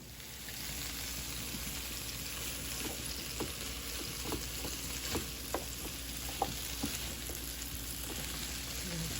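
Potatoes or vegetables quick-frying in a pan give a steady sizzle, with light stirring clicks and scrapes scattered through it; no talk.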